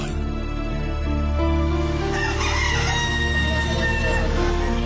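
A rooster crows loudly and close by in a farmyard shared with partridges, chickens and ducks. One long, drawn-out call rings over a constant bed of poultry clucking and background noise.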